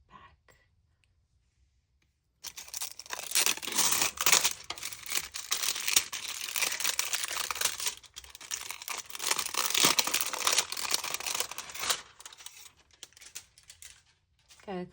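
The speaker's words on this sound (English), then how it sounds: "Give me 1 second to get the plastic off, and I'll be right back." Plastic wrap being peeled and crinkled off a new tarot card deck, close and continuous crackling and tearing for about ten seconds after a quiet start, with no talk.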